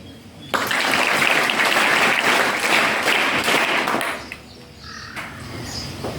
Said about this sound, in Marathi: तुम्हा सर्वांकरता मला टाळ्या वाजवायला आवडेल